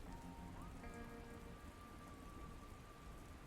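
Heavy rain in the game Dustland Delivery keeps up a dense, even patter with a faint tonal hum near the start, and no voices.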